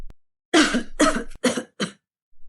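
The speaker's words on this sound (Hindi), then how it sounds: "ये तो किसी आदमी की खांसने की आवाज है" A man coughs in four harsh bursts, close and loud, separated by short pauses, with a faint click before the first.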